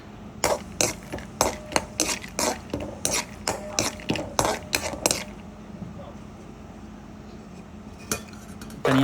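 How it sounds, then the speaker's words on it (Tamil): Metal spatula or spoon scraping and clinking in a pan while food is lightly roasted in oil, a quick series of sharp clatters for about five seconds, then quiet with one last clink. "சும்மா லைட்டாக வறுத்து எடுத்துக்கலாம்."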